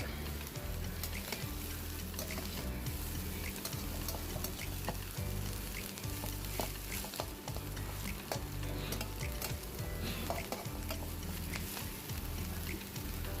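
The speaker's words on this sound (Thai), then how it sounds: "แล้วก็ผัดไปเรื่อย ๆ ค่ะ" Cabbage and carrot stir-fried in a pan for a sweet cabbage-and-egg dish give a steady, loud sizzle with continual stirring and scraping throughout, no voices.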